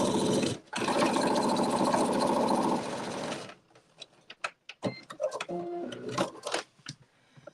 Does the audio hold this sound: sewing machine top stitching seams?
yes